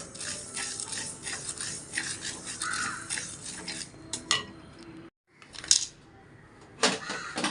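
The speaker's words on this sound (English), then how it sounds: "We are going to dry roast all the items separately." Coriander seeds dry roasting in a hot kadai give a close, busy metallic rattle and scrape as they are stirred and shaken. The sound is continuous, then drops out briefly before sharper clinks return near the end.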